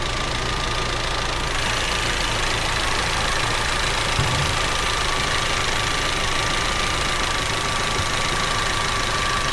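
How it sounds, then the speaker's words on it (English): Audi TT 2.0 TFSI engine idling with a cylinder 1 ignition misfire, a steady close running drone with an uneven, faintly knocking hesitation and no talking. "So the misfire is currently happening at idle as well"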